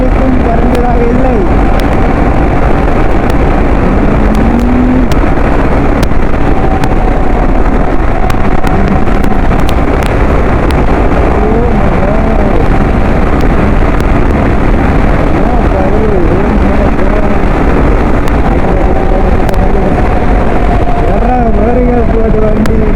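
A Yamaha R15 motorcycle being ridden after a 15,000 km service: a loud, continuous engine drone with heavy wind rush over the microphone, holding steady throughout.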